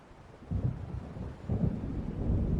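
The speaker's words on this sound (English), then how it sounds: "It seems there's a storm coming." Low, rolling thunder from an approaching storm in the video game Alan Wake Remastered, with two long rumbling swells that build and linger, fairly loud and heard alone without any voices.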